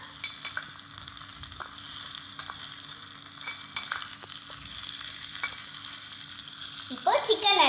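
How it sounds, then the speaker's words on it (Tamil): Tomatoes being sautéed in a tiny miniature pan, a bright steady sizzle with light scraping stir strokes and a short clatter near the end, close and moderately quiet. "இப்போ தக்காளி ஆட் பண்ணிக்கலாம். இதையும் சேர்த்து நல்லா வதக்கி விட்டுக்கலாம்."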